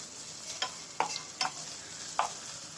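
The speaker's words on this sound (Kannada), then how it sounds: "ಕ್ರಷ್ ಮಾಡಿ ಇಟ್ಕೊಂಡಿರೋಂಥ ಈರುಳ್ಳಿ ಮತ್ತು ಬೆಳ್ಳುಳ್ಳಿನ ಹಾಕಿ 1 ಮಿನಿಟ್ ಫ್ರೈ ಮಾಡ್ಕೊಳ್ಬೇಕು" Crushed onion and garlic frying in hot oil for mutton fry, a steady soft sizzle broken by several sharp scraping stirs of a spoon in the pan, close and alone with no voices.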